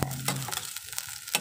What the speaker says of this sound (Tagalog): gisa po natin konti